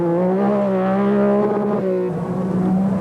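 An MG Metro 6R4 rally car in the 1988 Esso Metro Super Challenge in Kielder Forest, its engine giving a loud, sustained, buzzing drone that shifts pitch slightly as it runs.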